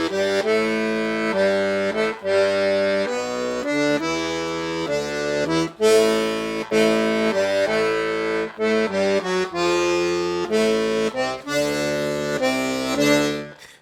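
A piano accordion plays a rock-and-roll zydeco accompaniment pattern in a steady rhythm, with bright reedy chords over pulsing bass notes. The playing runs loud and close for the whole passage with no talking.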